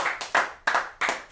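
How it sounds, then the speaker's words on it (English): A few sharp, separate hand claps in a room during a football club awards night, spaced evenly and close by rather than full crowd applause. "Good man, Neil Boothman, deserves a round of applause from everyone in this room."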